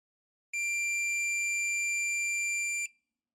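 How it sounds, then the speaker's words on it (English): A multimeter on continuity test, with probes across a micro switch's normally closed terminal, gives one steady, high electronic beep lasting a little over two seconds, clean and alone against silence. "When the switch is not pressed, the multimeter should beep or display low resistance."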